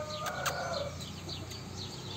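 Free-range chickens and young pullets, loose together with adult birds, cluck and chirp at late-afternoon feeding time, with a few sharper calls near the start over a soft, continuous farmyard background.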